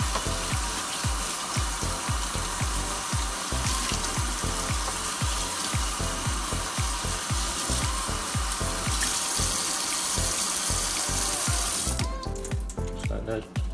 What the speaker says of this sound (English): Just run some cold water over it to let it cool down.